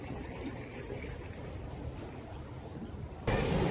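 Sea waves wash onto the beach at Botolan, Zambales, a soft continuous surf rumble mixed with wind noise on the microphone, swelling louder near the end.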